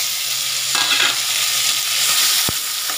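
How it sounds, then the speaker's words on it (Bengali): Fried fish and fried eggplant go into a hot pan for an old-style village eggplant and small-fish sour dish, setting off a steady close sizzle with stirring scrapes and a sharp knock near the end. "এবার আমি দিয়ে দেব এই মাছ আর বেগুন ভাজা।"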